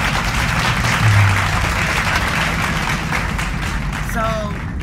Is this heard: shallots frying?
no